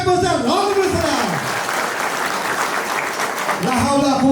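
Audience applause at a school's centenary celebration, a loud, sustained burst of clapping from a crowd with a voice over it at the start and end.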